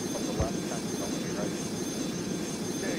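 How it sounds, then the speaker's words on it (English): Airliner engines roaring at full throttle during takeoff in the Airline Commander flight game, a steady broadband rumble with high whine that holds throughout at constant loudness. "now we have to take off like this, the full throttle"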